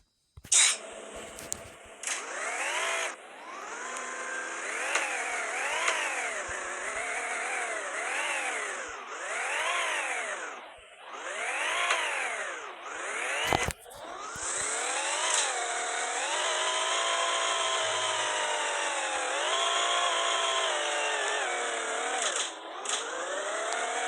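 A 1966 Lamborghini Miura engine in the game Car Dealership Tycoon revs repeatedly, rising and falling in pitch through a string of quick throttle blips, then holds a long high-pitched drone.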